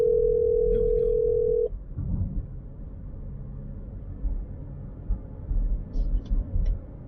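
A telephone dial tone sounds as a clean, steady hum for under two seconds and then cuts off abruptly, leaving low rumbling handling noise and faint background activity.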